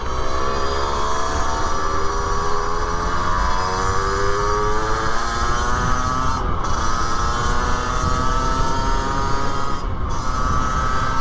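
Rieju MRT50LC two-stroke supermoto motorcycle ridden through countryside, its high buzzing engine note rising and falling through the gears, loud and close over steady wind noise.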